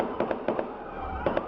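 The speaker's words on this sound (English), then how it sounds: "gunshots." Sharp police gunshots from news footage at a traffic intersection, several distinct cracks spaced irregularly over a steady background rumble, moderately loud.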